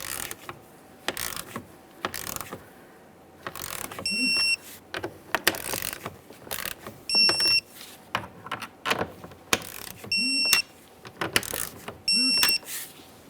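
A torque wrench tightens the side mirror bolts on a 2015-2020 Ford F-150, with repeated close ratcheting clicks in short bursts and several sharp high clicks as the wrench reaches torque, mixed with handling clatter and a little talk.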